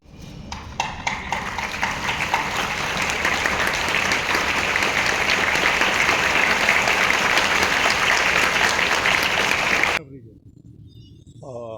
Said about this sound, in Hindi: एक दूसरे का स्वागत करने में तालियों की गड़गड़ाहट आपको सुनाई पड़ेगी